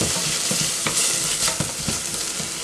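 Onions fry in a very hot pan, a steady crackling sizzle with irregular stirring scrapes and small pops, close and loud with no talking.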